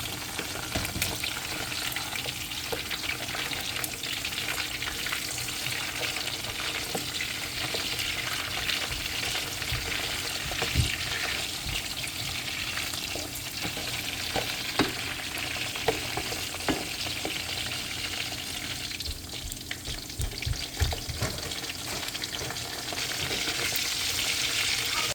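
Cassava leaf stew with dry fish sizzling and bubbling in a pot with occasional scraping and clinks of a spoon stirring, fairly soft and continuous.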